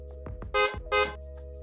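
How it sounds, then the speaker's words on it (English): Two short honks from a 2014-or-later Harley-Davidson motorcycle horn, sounding as a confirmation once the radio reboots during amplifier programming, with a brief gap between them and a low hum throughout. "the horn will honk twice for amplified mode"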